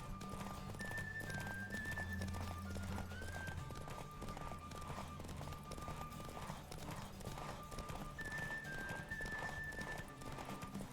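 Rapid clip-clop of a horse galloping steadily throughout a horse race in The Witcher 3: Wild Hunt, with a couple of brief whinnies and a faint tonal music bed underneath.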